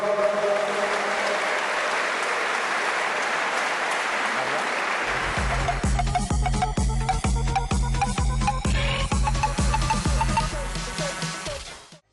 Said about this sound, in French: Fin du combat, mesdames et messieurs, les applaudissements bien fort